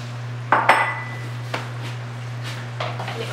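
Potatoes tumble into a pot of turkey picadillo, giving a few sharp clatters and knocks against the pot, with a spoon clinking lightly afterward over a steady low hum.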